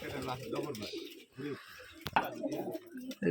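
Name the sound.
cooing of Rajshahi Giribaz pigeons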